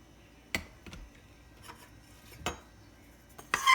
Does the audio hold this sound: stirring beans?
yes